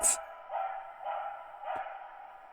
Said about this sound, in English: starting to hear the dog barking through my headphones